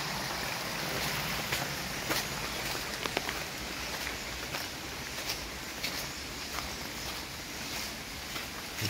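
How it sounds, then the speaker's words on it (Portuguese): Small water rapids beside a forest trail on a mountain ascent, a steady rushing, splashing flow heard close and continuous, with scattered brief clicks and no talking. "Corredeirazinha de água."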